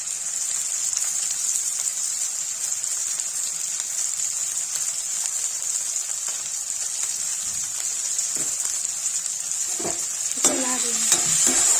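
Ginger, garlic and green chili sizzle steadily in a hot pan for a palak dish, with a constant frying hiss and scraping stirring strokes that grow busier near the end; no talking.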